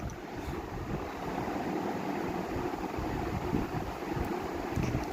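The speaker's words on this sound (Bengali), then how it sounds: "দিয়ে দিয়েছি নুন আর হলুদ তো দিয়ে আলুটাকেও এরমভাবে লাল লাল করে ভেজে নেবো" Potatoes fry in oil with salt and turmeric, a steady hissing sizzle of moderate loudness that carries on throughout with no talking.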